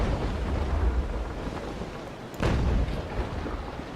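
A ship's cannon fires in Naval Action, a naval combat game, a single deep boom landing about midway through a steady roar of wind and sea noise, fairly loud, with no one talking.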